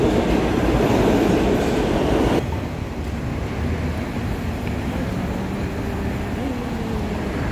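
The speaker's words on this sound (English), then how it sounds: "Actually, we both are waiting for the train." A train rumbles loudly with a steady broadband roar that drops abruptly partway through, then continues more softly with faint wheel squeal, heard while waiting at the Terminal 2 airport rail station in New York, heading toward Jamaica Station.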